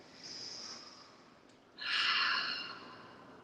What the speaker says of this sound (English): Use that Ujjayi breathing.